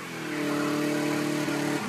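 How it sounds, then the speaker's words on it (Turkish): Luxury cars drifting and burning tires inside a tunnel in Istanbul, heard as a sustained droning engine rev that swells and holds steady for nearly two seconds, moderately loud with no voices. "Şahıslar dakikalarca lastik yakıp ortalığı dumana boğdu."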